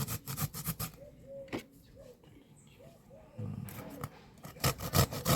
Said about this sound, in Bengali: এখন আমরা পটলটা ঘষে নিচ্ছি